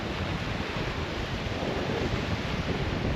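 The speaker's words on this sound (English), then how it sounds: "And it is rather windy" Strong wind roars steadily along the coast at Langebaan on South Africa's West Coast, buffeting the microphone with a constant low rumble and hiss, with surf-like noise beneath it throughout.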